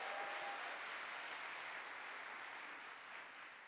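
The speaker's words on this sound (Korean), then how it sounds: "박수 한번 부탁드립니다" A church audience at a cell church year-end and Christmas festival applauding, with steady sustained clapping from a crowd heard at moderate distance.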